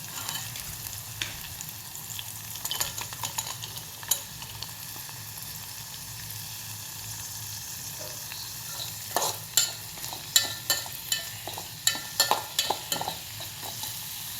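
Vegetables, green chillies among them, sizzle steadily as they fry in a pan, with a spoon scraping and clattering in irregular strokes close by, the stirring growing busier toward the end.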